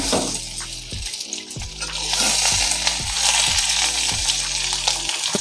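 Karpuravalli leaves being sautéed in a pan for thuvaiyal, a close steady sizzle with rhythmic scraping strokes of a spatula and a low stove hum underneath, no talking.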